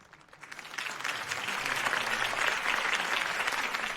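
Crowd applause for Harvey Dent's campaign speech in Batman: The Telltale Series, rising from a quieter start into a sustained, dense roar of clapping from a large audience that holds steady to the end.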